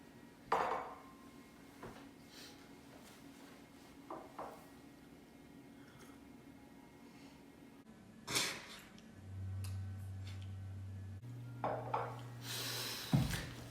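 Porcelain teacup and dishes clink in scattered taps during a garden tea service with sugar lumps and bread and butter, sharp light knocks spaced apart over a quiet room tone with a low hum.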